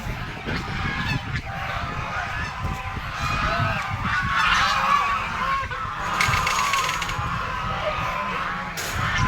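Geese honk repeatedly at close range, a noisy cluster of overlapping calls with some scuffling and background clatter throughout.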